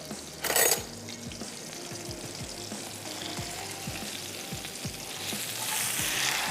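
Fish frying in oil with masala on a tawa sizzles steadily up close, broken by repeated scraping and stirring clicks and a brief louder spatter early on as the pieces are turned.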